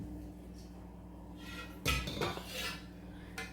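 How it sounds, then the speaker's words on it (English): A spoon or spatula scraping a wet 1940s Grant loaf mixture of French wholemeal flour from the sides of a bowl toward the centre, a couple of short close scrapes and knocks over quiet background. "I'm just going to drag everything from the outside of the bowl into the centre."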